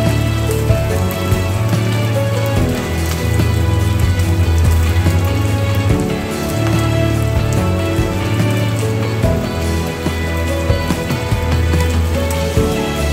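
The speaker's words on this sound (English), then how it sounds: "then shallow fry the fish." Fish shallow frying in hot oil in a pan after being coated in a ground mustard, fenugreek, turmeric and salt paste, a loud continuous crackling sizzle with steady spitting throughout.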